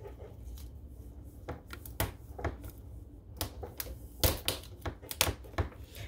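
A knife rocks back and forth through a lobster tail on a board lined with paper towel. It makes irregular sharp cracks and crunches, some in quick clusters, close and moderately loud over a quiet background with no talking.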